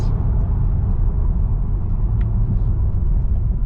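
A stage 2 BMW 140i drives with a deep, rumbling engine drone heard from inside the cabin, steady and close over about four seconds as its ZF 8-speed gearbox works.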